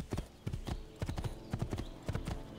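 Hooves of a galloping horse in Assassin's Creed II beat in repeated clusters, a steady three-beat canter rhythm close up, carrying on without any speech.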